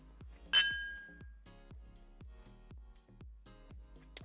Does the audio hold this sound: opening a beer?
yes